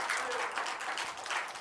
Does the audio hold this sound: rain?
no